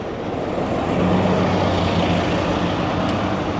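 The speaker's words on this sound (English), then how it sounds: "Multiple buses, the normal one" Buses pass along a street in Benidorm, a steady low engine rumble and road noise rising slightly and holding for several seconds, with no talk.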